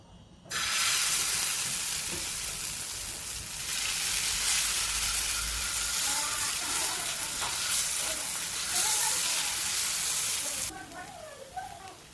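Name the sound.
oil heating and sizzling on a griddle (tava)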